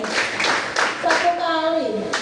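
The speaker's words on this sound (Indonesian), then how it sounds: "Tepuk 4 kali" Middle school students at an anti-corruption outreach session clap in quick, loud bursts in unison at close range, while a voice and children's chatter carry over the rhythm.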